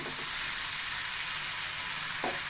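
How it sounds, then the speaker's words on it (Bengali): Pumpkin frying with a fish head in a pan, a steady loud sizzle and hiss with no pauses, close up, with a faint stir or scrape near the end. "এভাবে ভাজতে ভাজতেই এটা একেবারে নরম হয়ে যাবে"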